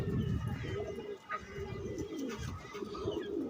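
Racing pigeons, a male and a female, cooing in soft repeated rolling calls close by, with low throaty pulses running steadily through the stretch.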